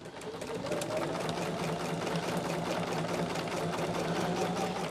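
A sewing machine runs steadily for about five seconds, stitching a quilt block with a continuous, even mechanical hum and rapid needle clatter, close and alone with no talking.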